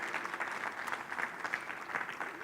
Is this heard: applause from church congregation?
yes